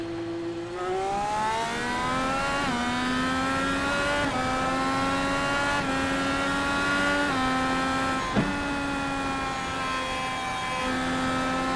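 Indy series race cars in a racing video game roar back to green on a restart, engines climbing steadily through gear changes as a loud continuous pack howl, with a brief sharp shift blip partway through and no talk.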